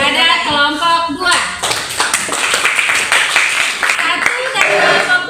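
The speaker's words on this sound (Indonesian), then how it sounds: "Anda semuanya beri tepuk tangan kepada kelompok 2" A classroom of students claps for group 2 after a teacher's prompt, a burst of quick, overlapping hand claps starting about a second in and continuing loud and close, with voices at the start.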